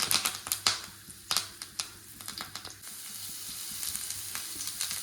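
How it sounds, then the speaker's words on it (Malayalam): Curry leaves crackle and spit in hot coconut oil in a pan. Sharp pops come in quick irregular bursts over a thin hiss, then ease into a steadier sizzle. "പാനിലേക്ക് കുറച്ച് വെളിച്ചെണ്ണ ഒഴിച്ചു കൊടുക്കാം. കുറച്ച് കറിവേപ്പില ഇട്ടു."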